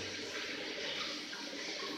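A Zurn toilet in a men's restroom flushes with a loud, continuous rushing of water that fills the whole stretch without a break.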